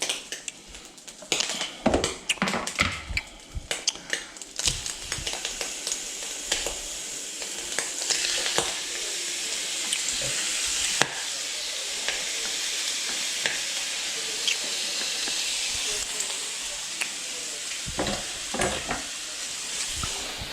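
Thin steak frying in a hot pan gives a steady, loud sizzle that runs unbroken throughout, with occasional sharper crackles and spits popping out of the hiss. No one speaks.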